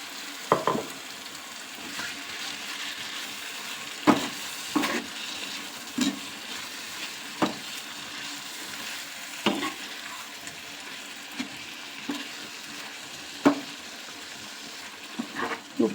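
Chicken oil kara sizzling steadily in a pan after half a glass of water is added, a constant frying hiss broken by sharp clinks and scrapes of stirring.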